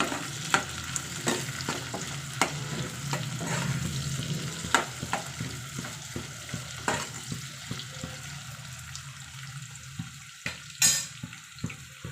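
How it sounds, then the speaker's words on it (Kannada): Onion, green chilli and curry leaves frying in a pan for egg rice: steady close sizzle broken by regular scraping stir strokes, fading quieter toward the end with a final clatter. "ಇವಾಗ ಈರುಳ್ಳಿ ಕೂಡ ಆ್ಯಡ್ ಮಾಡ್ಕೊಳ್ಳೋಣ ಮತ್ತು ಇದನ್ನು ನೀಟಾಗಿ ಫ್ರೈ ಮಾಡೋಣ"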